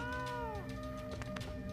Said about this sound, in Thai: แมวป่า อย่ากัดคนนะ